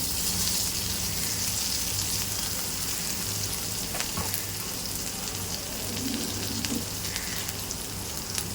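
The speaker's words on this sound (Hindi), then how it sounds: "ये डाल दिया हमने ज़ीरा और साथ में यहाँ पे जो मैंने भी आपको गार्लिक और ग्रीन चिली बताई हूँ ये डाल देंगे" Cumin, garlic and green chilli crackle in a hot pan with a dense, rain-like sizzle that holds steady throughout, close up, with occasional soft stirring scrapes.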